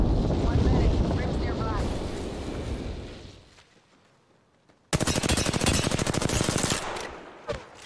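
Automatic gunfire in the video game Apex Legends: a dense rattling burst up close, fading into quieter rumble and near silence, then a second loud rapid volley of shots with a voice speaking over the action.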